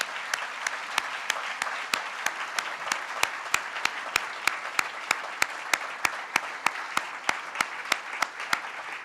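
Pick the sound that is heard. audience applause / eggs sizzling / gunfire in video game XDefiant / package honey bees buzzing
audience applause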